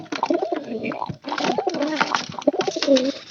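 Pigeons in a loft coo in repeated throaty bursts with short pauses between phrases, close and fairly loud, with no talking.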